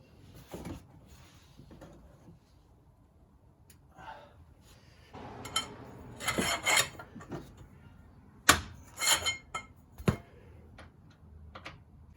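Ratchet wrench clicking in short bursts while loosening a control arm nut on a 2000 Toyota Sienna, with separate metallic clicks and scrapes spaced out over the span, close and moderately loud.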